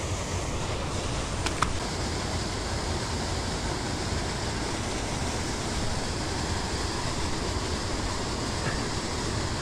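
Steady, broadband rush of falling water, constant and fairly loud, with no pauses or voices throughout.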